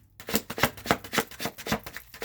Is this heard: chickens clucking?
no